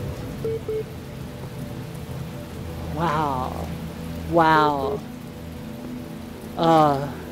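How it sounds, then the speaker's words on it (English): Steady rain and a distant rumble of thunder from a fierce thunderstorm in The Talos Principle video game, a constant hiss throughout while a voice exclaims briefly three times over it. "It's an incredible feeling just standing out in this fierce thunderstorm."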